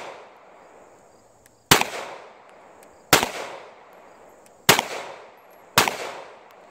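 Four loud, sharp pistol shots from a CZ Shadow 2, an all-metal handgun with a heavy recoil spring, fired at an outdoor shooting range, spaced about a second or more apart, each with a short ringing decay.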